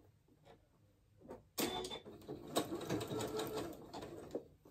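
Home sewing machine running a zigzag stitch on a New Look 6891 garment, starting after faint handling noises and whirring in a steady rapid close clatter for about three seconds.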